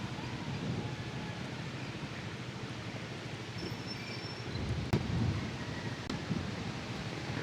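Steady wind rumbling across the microphone along a seaside boardwalk at Calatagan, with low buffeting noise throughout and a few faint clicks, and no speech.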